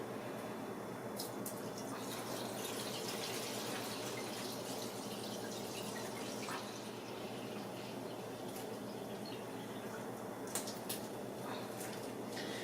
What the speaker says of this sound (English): we're just going to pour this in here.